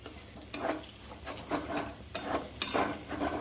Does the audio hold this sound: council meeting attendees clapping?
no